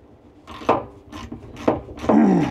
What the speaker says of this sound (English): 1/4-inch ratchet.